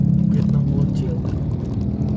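A Suzuki Celerio passes on a city street with a low, steady engine hum close by, while people talk over it.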